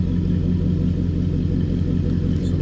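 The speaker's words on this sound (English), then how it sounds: "Like I mentioned earlier, it's a good sounding truck." A 2003 Chevrolet Silverado 1500 Stepside LS 4x4 pickup engine runs with a steady, deep, close rumble that holds even throughout, with no talking.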